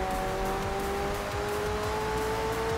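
A supercar driven in Forza Horizon 4 on a wheel controller, its engine holding a steady, sustained whine with a constant game-sound bed and no talking.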